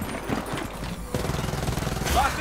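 Rapid automatic gunfire rattles through a Gears of War 4 Horde mode battle, dense and continuous with overlapping game effects and a voice in the mix.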